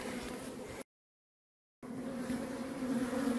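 Honey bees buzzing around a top bar hive, a continuous close hum that breaks off for about a second, then returns slightly louder.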